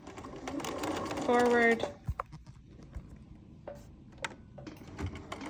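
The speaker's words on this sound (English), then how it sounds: "I will sew along the edge of the cardboard." Sewing machine stitching a short burst along the edge of a piece of cardboard, a loud buzzing run of needle strokes lasting under a second, with a voice speaking just before and quieter handling clicks after.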